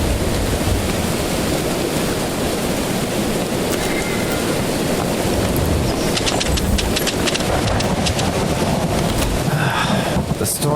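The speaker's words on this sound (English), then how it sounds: "The storm sure is loud." A heavy storm in the video game 63 Days gives steady, loud, broadband roaring wind and rain throughout, a constant dense wash without pause.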